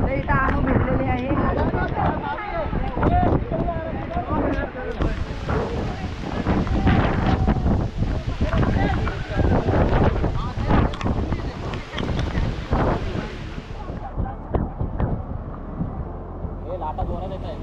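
Strong wind buffets the microphone at Baga beach in Goa while ocean waves roll and crash close by, a constant loud roar throughout, with people talking over it.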